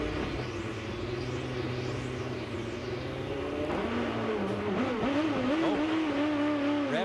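A Toyota-powered IndyCar at Homestead-Miami in 2005 idles loud and close during a pit stop, its engine note rising and wavering as the revs climb and dip, with a steady rumbling drone throughout.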